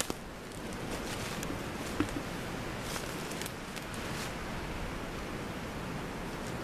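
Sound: creek water flowing nearby

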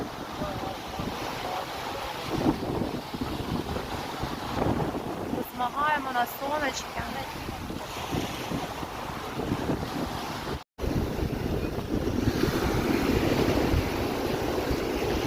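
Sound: wind blowing at the seaside

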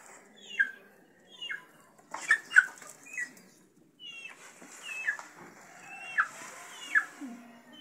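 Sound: hens clucking in an African village

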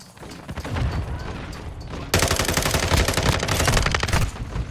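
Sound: gunshots in video game Call of Duty

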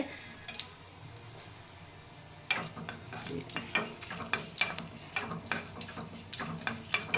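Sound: spices roasting and stirring in a pan

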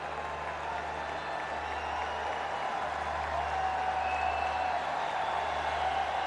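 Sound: cricket crowd cheering a batsman's half century

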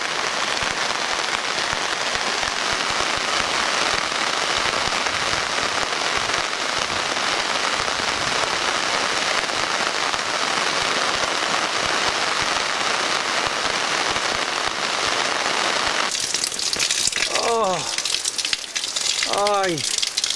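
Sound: rain falling

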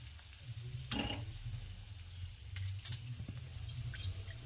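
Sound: wheat jaggery papdi puris frying in oil

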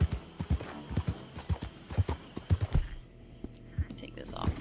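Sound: horse hooves and whinny in video game Red Dead Redemption 2

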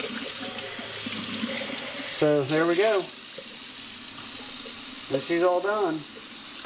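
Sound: water running in a sink during cleanup

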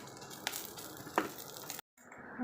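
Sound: frying food crispy in a pan

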